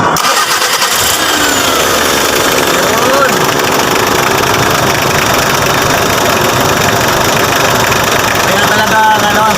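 A Mitsubishi L300 FB van engine idles in neutral, loud and steady with a rough, heavy vibration and a constant mechanical clatter, heard up close throughout.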